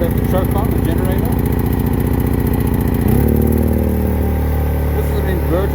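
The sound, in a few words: inverter type portable generator running with choke on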